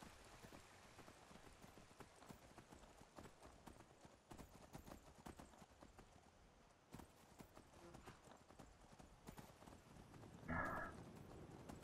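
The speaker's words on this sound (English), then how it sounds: "Get on our horse." Horse hooves clip-clop steadily in the video game Skyrim as the rider sets off, a continuous rhythmic trot under soft rain-like ambience, with a brief louder burst near the end.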